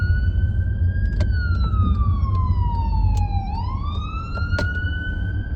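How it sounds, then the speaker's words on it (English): A loud, close siren wailing steadily, its pitch sliding down then rising again as the vehicle passes, with road noise underneath. "freaking ambulance."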